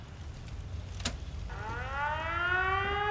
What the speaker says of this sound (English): And activate the siren.